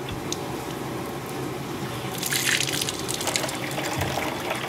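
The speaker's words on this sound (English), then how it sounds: "Oh, I wonder if I turn on the water." Water from a tap running steadily in a fish drainage setup, a continuous close rushing flow that swells and brightens after a couple of seconds, with no talking.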